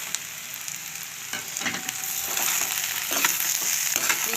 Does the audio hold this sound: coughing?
no